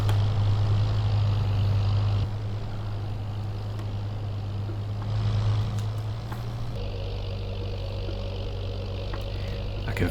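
A heavily loaded tractor in a farming simulator game hums with a steady low engine drone throughout, its tone shifting slightly as load changes, with a voice talking over it.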